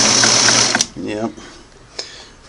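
Singer Model 513 sewing machine set to its widest zigzag running loud and steady for under a second, then winding down with a clunk, followed by a short voice and a faint knock.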